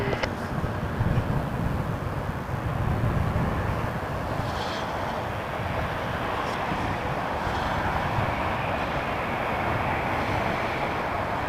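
Aer Lingus airliner at Toronto Pearson Airport, a broad, steady engine roar that fills the whole stretch at even loudness, heard from a moderate distance with no talk.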